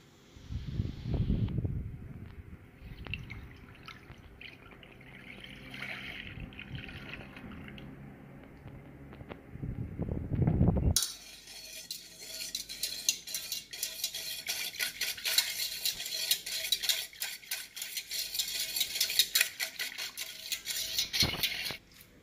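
Flan mix stirred with milk in a saucepan, a spoon scraping and swishing through the liquid in steady near strokes, joined midway by a brighter, denser hiss.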